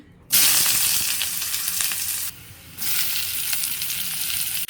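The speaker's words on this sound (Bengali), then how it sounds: "এই তেল গরম হয়ে গেছে আমি পেঁয়াজ দিয়ে দিই" Onion hits hot oil and fries with a loud, bright sizzle that starts abruptly, drops briefly as it is stirred, then returns at full strength, heard close and alone.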